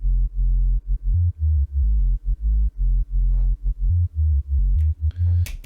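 A synthesized sub bass patch plays alone, a deep, loud low tone pulsing in short rhythmic notes with quick gaps, shifting between a few pitches, with no other instruments behind it.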